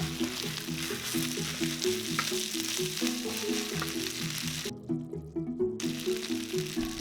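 Garlic, beef and rice being stir-fried in a pan for garlic beef fried rice, giving a continuous bright sizzle with occasional stirring scrapes over several seconds, with soft tonal music running underneath.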